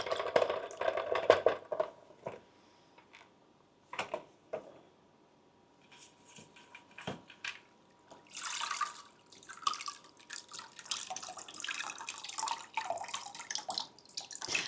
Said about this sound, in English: I'm going to go ahead and give it another rinse real fast.